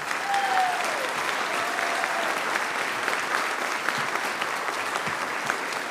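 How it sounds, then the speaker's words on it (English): Applause from the audience at a high school winter concert, sustained even clapping from a large hall crowd with a faint voice or whistle early on, no speech over it. "So we can applaud for one time."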